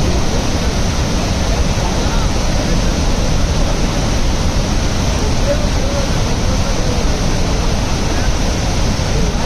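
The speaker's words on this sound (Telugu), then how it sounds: "హోక్నేకల్ ఫాల్స్." Hogenakkal waterfalls on the Karnataka–Tamil Nadu border roar in a dense, steady wash of rushing water, loud and unbroken.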